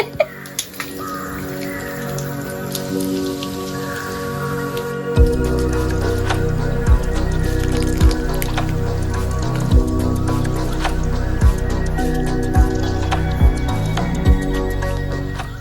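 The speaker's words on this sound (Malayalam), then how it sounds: "നല്ല വൃത്തിക്ക് കഴുകി വൃത്തിയാക്കി ഇത് കഴുകുമ്പോൾ തന്നെ" Freshly picked ripe mulberries are washed in water, with soft squishy sloshing and a steady rhythm of drips falling close by.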